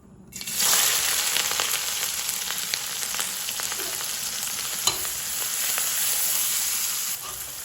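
Chopped onions and green chillies frying in oil for noodles, a loud sizzle that bursts up at the start and holds dense and even, with light stirring scrapes and no voices.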